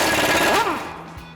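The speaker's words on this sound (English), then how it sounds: "So we're going to use our impact for our bottom one here." Impact wrench breaking loose a threadlocked bottom brake caliper bolt on a 2019-2024 Sierra 1500 truck, a short loud rattling hammer burst close by that quickly fades into quieter clicks.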